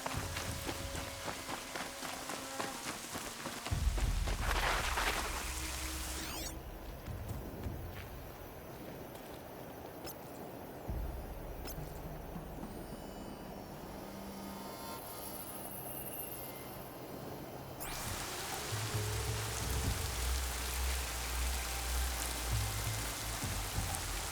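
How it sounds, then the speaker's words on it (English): Steady rainfall patters across the surroundings in the video game Horizon Zero Dawn Remastered, a constant hiss of drops on the ground mixed with in-game rumbles and a few footstep-like thuds, with no voices. "More rain."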